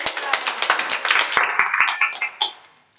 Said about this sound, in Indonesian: Beri aplaus buat Mbak Isita.